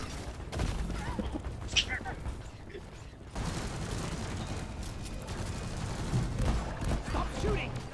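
Bursts of rapid automatic gunfire and scattered shots rattle through a Deep Rock Galactic video game battle, fairly close and busy, with shouting voices mixed in.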